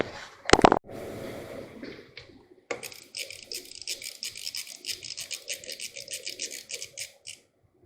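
After a sharp metallic clunk, a ratchet clicks in steady rapid runs while loosening bolts on the intake manifold of an Opel Zafira A, close and clear in a quiet space.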